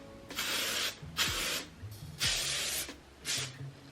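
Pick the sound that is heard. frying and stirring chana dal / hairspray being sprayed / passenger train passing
hairspray being sprayed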